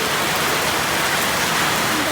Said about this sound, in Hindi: अरे भाई ओले पड़ गए, ओले।